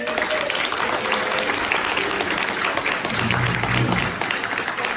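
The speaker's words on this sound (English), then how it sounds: "So another round of applause for them" A meeting audience claps for a group of teachers after a question-and-answer session, sustained applause in a room with faint voices and low rumbles mixed in beneath it.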